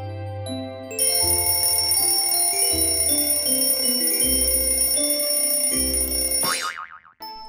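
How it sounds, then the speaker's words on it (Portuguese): A cartoon alarm clock rings in a children's animation, a bright sustained metallic ringing over bouncy musical tones that cuts off with a quick descending warble near the end. "A Mimi desligou o despertador."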